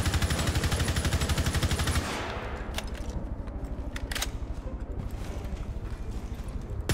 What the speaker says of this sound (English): Shoot right now.